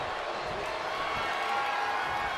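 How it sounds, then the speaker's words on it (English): A large crowd roars at a WWE steel cage wrestling match in Saudi Arabia, a dense, steady wash of cheering and noise that holds loud throughout the short stretch. "I feel the roar of the crowd just gets louder every trip we make out here"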